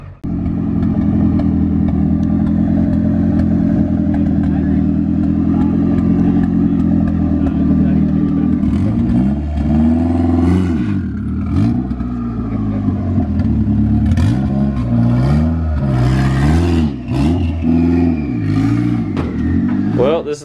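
A Hyundai Sonata engine on a dyno turns over and catches, idling loudly before revving up and down in repeated swells, with people talking over the engine noise.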